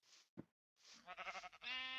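A sheep bleats in the video game Minecraft: a short wavering bleat after a couple of soft clicks, close and clear against silence.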